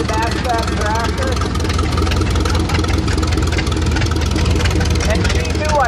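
A vintage tractor's engine chugs steadily and loudly close by during a parade with steam-era machines, while a voice talks over the running engine.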